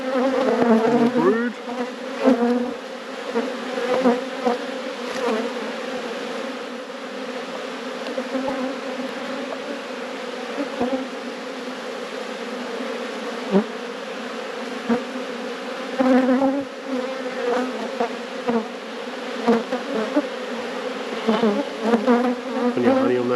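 Honey bees swarm around an open hive during a frame inspection, their dense, continuous buzz rising and falling close by with individual bees droning past the mic for the whole stretch.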